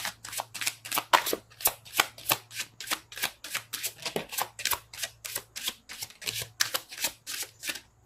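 Tarot cards riffle-shuffled in quick, even bursts, roughly twenty crisp flutters over a steady low hum, close and fairly loud with no talking.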